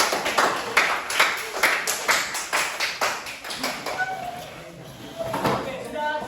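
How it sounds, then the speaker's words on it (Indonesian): A classroom of junior high students applauds a student group, a run of fast, dense clapping that fades out toward the end with a few scattered claps. "Oke, tepuk tangan untuk kelompok 5."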